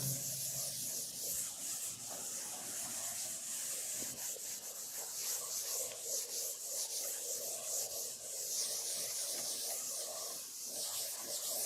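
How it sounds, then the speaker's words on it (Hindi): Chalk writing being rubbed off a classroom board with a duster, a steady scratchy swishing that runs continuously in close, even strokes with no speech over it. "चलिए मैं रब कर देता हूँ ये 1 से लेकर के 3 तक"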